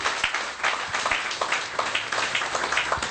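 A church congregation claps together during a French-language worship service, a dense, steady wash of many hands with no one speaking over it.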